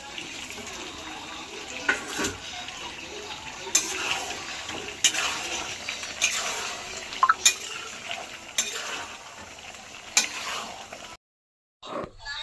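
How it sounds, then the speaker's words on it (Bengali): Fried potato and garlic going into a hot pan, a continuous close sizzle with repeated clacks and scrapes of a spoon against the pan, ending in a brief silence and then a short burst of noise. "এইবার এই ভাজা আলু আর রসুনটা দিয়ে দিলাম।"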